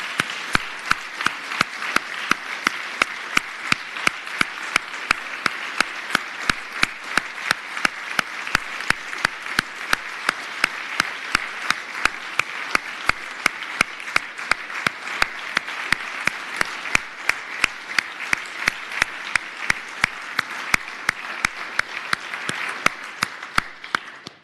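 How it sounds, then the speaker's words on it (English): A long, sustained round of applause in the Senate of Virginia chamber as families and guests stand in the gallery, steady and full for over twenty seconds with crisp individual claps standing out through the wash. "please rise in the gallery and give you a resounding round of applause for everyone here"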